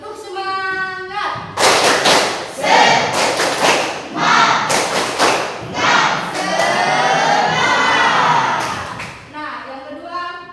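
Children loudly perform the tepuk semangat clapping chant, with rhythmic bursts of group claps and thumps mixed with shouted chanting voices, then trailing off into quieter speech.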